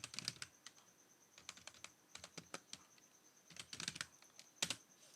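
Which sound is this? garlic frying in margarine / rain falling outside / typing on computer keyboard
typing on computer keyboard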